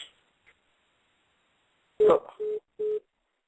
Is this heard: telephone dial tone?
yes